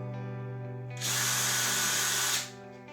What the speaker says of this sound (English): drill a pilot hole here,